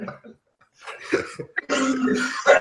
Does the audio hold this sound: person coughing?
yes